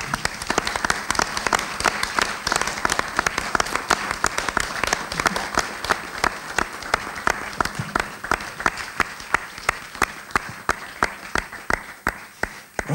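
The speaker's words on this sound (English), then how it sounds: "But a big round of applause to absolutely everyone, our filmmakers, our guest panelists." A festival audience applauds filmmakers and guest panelists at an end-of-session gathering, a dense, steady clapping that holds for the full stretch before thinning slightly near the end, with no talking over it.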